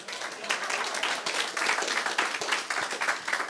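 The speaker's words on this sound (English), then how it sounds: "A round of applause." An audience applauds at a Costa Mesa community gathering, sustained clapping from many people forming a thick, even patter for the full few seconds.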